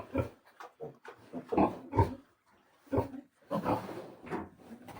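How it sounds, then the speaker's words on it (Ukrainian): Ten-day-old piglets grunting and squealing in a rapid, irregular series of short bursts, fairly close, with brief pauses between. "Глянемо наших маленьких поросяток."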